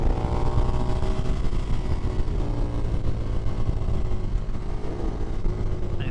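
2024 KTM Duke motorcycle engine held at light throttle, a steady mid-pitched drone with a faint rising whine, running continuously and fairly close throughout.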